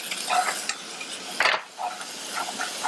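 Coconut sugar being stir-fried in a wok, with a steady sizzle and scraping stirs, plus a louder clatter of the utensil against the pan near the middle.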